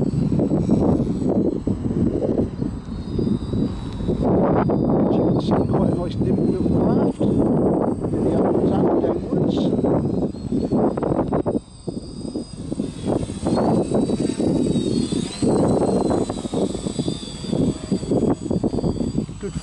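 An X-cam quadcopter fitted with Emax 2213 motors flies close by with a loud, steady motor whine that surges and dips as the throttle changes, and someone talks over it.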